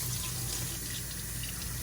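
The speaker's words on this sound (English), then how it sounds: "So the water that comes out right here, it needs to be clean." Tap water runs steadily into a sink while a paint brush is rinsed clean, a close, constant splashing rush without any speech.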